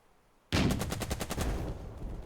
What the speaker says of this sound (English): Let's shoot at that unit with this tank.